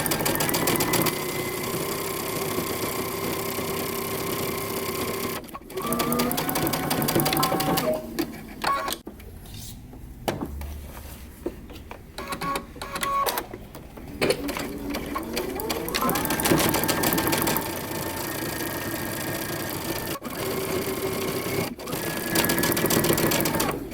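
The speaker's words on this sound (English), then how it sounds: "You're going to sew both seams using 5/8 of an inch seam allowance for both sleeves." A sewing machine stitches the sleeve seams of a moto jacket, its rapid needle chatter running in long bursts with brief pauses and slowdowns in between, close and steady.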